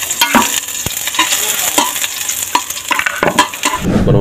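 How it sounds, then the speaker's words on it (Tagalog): Garlic sizzles in hot oil in a pan while being stirred for garlic fried rice, giving a bright, crackling fry with sharp scraping strokes close by. "Pag mainit na, unahin natin yung bawang."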